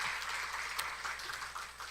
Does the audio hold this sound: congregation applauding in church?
yes